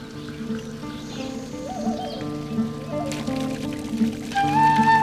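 Water pours and trickles steadily from Inca-era stone fountains in Cusco, under tonal background music and a voice.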